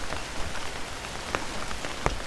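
Rain tapping softly on surfaces outdoors, a steady close patter with a few crisper individual drops standing out, especially near the end.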